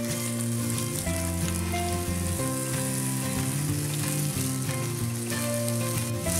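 Shrimp shells and garlic fry in a pan for a seafood soup, giving a loud, continuous sizzle close up, with musical accompaniment underneath.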